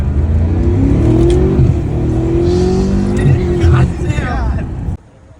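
A car making over 1,000 horsepower at a car rally meet accelerates hard, its loud rising engine roar continuous for about five seconds before cutting off abruptly, with voices faintly underneath.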